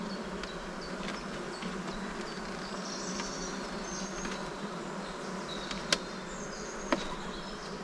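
Honeybees buzz steadily around an open hive during work on an artificial swarm, a continuous close hum with a couple of brief sharp knocks near the end.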